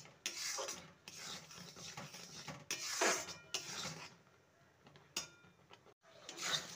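A mixture of chhana and date palm jaggery stirred in a pan, heard as intermittent scraping and rasping strokes of a spatula against metal in short bursts with brief pauses, close but fairly quiet.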